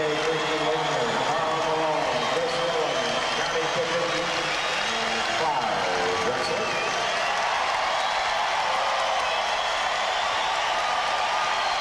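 A basketball arena crowd cheers and applauds for Clyde Drexler during a Dream Team game against Puerto Rico, a broad continuous roar of clapping and voices under a commentator talking.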